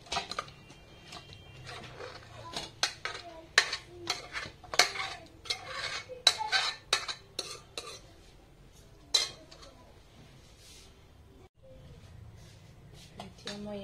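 Cooked chicken scooped from a pot for chicken biryani, with a run of sharp metal spoon-on-pot clinks and scrapes in the middle, fading to quiet kitchen background.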